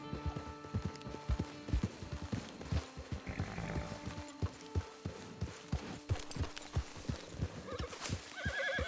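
Steady clip-clop of horse hooves trotting on hard ground, close and rhythmic, with a short whinny near the end, in the video game Red Dead Redemption 2 Online.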